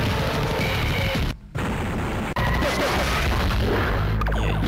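Explosions from the Sega CD full-motion-video shooting game Surgical Strike come as loud, dense booms and crashes that roll on with almost no pause, broken only by one short silent gap.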